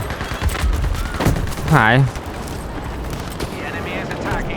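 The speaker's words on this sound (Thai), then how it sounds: "โอ้ระเบิด" Explosions and gunfire in a World War II battlefield shooter, with booming blasts and crackling shots under excited talk, one voice rising sharply over the loudest burst.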